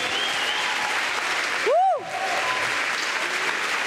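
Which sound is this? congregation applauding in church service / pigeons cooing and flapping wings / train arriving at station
congregation applauding in church service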